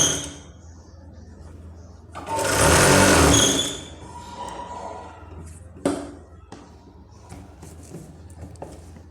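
A sewing machine stitches the edge of blouse fabric in one loud whirring run of about a second and a half, followed by scattered handling clicks and quiet.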